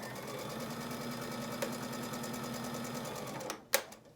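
A sewing machine runs a steady, fast stitching hum while joining quilt block pieces with a short stitch length, then stops abruptly with a couple of sharp mechanical clicks at the end.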